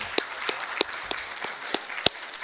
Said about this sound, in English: good round of applause to our contributors